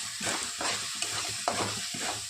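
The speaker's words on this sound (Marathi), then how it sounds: "मसाला छान परतून घेणार आहोत" Masala sautéing in a pan for an egg dish, with soft sizzling and repeated stirring scrapes in an irregular rhythm, close and fairly quiet, no voices.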